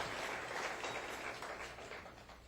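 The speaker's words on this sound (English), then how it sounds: "Clap for him." Audience applause at an award presentation fills the room, a broad, steady wash of clapping that gradually eases off.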